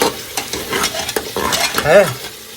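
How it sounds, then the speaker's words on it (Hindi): Chicken, potatoes and masala stir-frying in a pan, with a steady close sizzle, scraping stirs and a few clinks of utensil against the pot throughout. "हमने इसमें मसाला, चिकन, आलू सब कुछ डाल दिया है। देखिए कितना बढ़िया से जो है भुन गया है"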